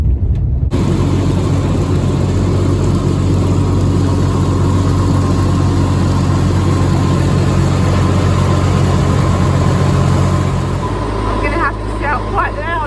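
A loud, steady tourist boat engine drones throughout with a low rumble on Tonle Sap Lake, Cambodia, and voices can be heard talking over it.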